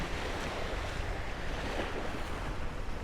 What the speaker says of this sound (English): We are just sailing here under asymmetric spinnaker with a nice little bit of swell.